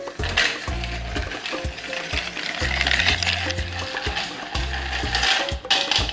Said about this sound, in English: Now we are putting a lot of ice and stirring cocktail even more to dilute and of course to chill